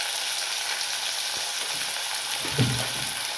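Turmeric and chili powder sizzle in hot oil for dal dhokli, a steady bright hiss with faint spoon stirs near the end.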